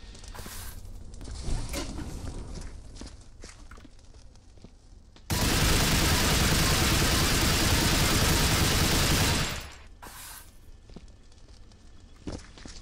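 Video game gunfire from Viscera Cleanup Detail: a long, dense burst of rapid shots lasting several seconds, framed by scattered single shots and shuffling footsteps before and after.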